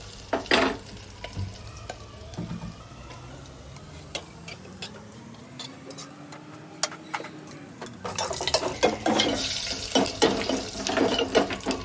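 Mustard seeds crackle and sizzle sharply in hot oil for a dal tempering, with scattered pops throughout and a busier burst of spattering near the end, plus occasional stirring clatter.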